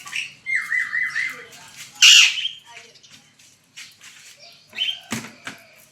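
A pet parrot lets out loud, harsh squawks and brief wing flaps close by, with a burst of sharp calls midway, while people talk quietly in the background.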